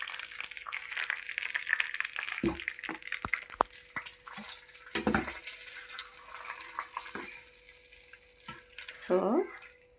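Tempering is poured into brinjal curd chutney and stirred in, giving a brief sizzle, then scraping and mixing sounds with a few clattering spoon knocks and a busy kitchen hiss.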